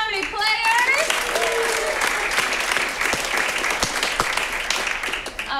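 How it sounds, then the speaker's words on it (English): Dense, steady applause from a comedy theater audience welcoming an improv troupe, with a brief cheer or whoop near the start and clapping sustained throughout. "A round of applause for the Curious Comedy Players."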